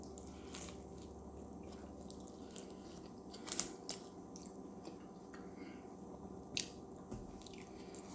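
Soft, close chewing and squishy bites of a messy, dripping Burger King burger, with a few sharper crunchy bites over a faint steady background hum.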